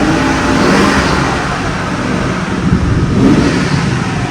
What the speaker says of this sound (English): You rev it up.